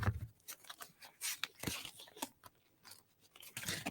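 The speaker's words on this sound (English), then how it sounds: "I have my cards here and I'm just giving them a quick shuffle" Tarot cards get a quick shuffle, producing faint, close, irregular papery snaps and riffles in short bursts over a quiet background.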